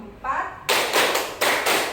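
A teacher's voice gives way to a classroom of pupils clapping in unison, sharp group claps landing in a quick counted rhythm pattern.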